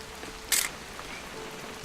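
Soft, steady rain patters in the video game What Remains of Edith Finch, with a sharp brief rattle partway through and no talk.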